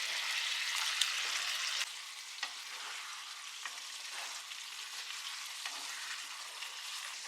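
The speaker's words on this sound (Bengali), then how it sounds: "মশলাটা কষা হয়ে গেলে অল্প একটু জল অ্যাড করছি, দিয়ে দিচ্ছি ভেজে রাখা চিকেনগুলো।" Fried chicken going into a simmering masala of onion and capsicum with a splash of water, giving a soft, steady sizzle and light stirring scrapes close by, slightly louder at first.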